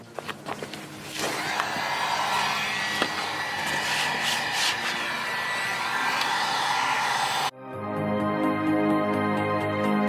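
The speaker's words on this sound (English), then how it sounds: "I'm probably going to take the heat gun just to get in that crack and make sure it's all dried up." A heat gun blows steadily while drying tint film applied to the light on a Ford Focus ST/RS, a continuous loud airflow roar for most of the clip that cuts off near the end.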